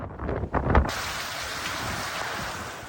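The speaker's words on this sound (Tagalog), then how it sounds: "Pabugso-bugso rin ang ulan." Gusty storm rain hisses steadily amid strong wind in Batanes, Philippines, with a brief loud buffet of wind on the microphone near the start.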